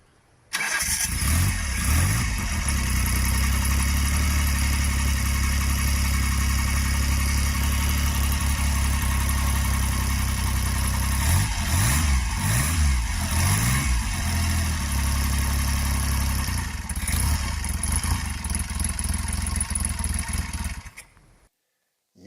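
A 1974 Triumph Trident T150V motorcycle fires up on its electric starter, then settles into a loud, steady, close three-cylinder running note for about twenty seconds before cutting off, with no speech over it.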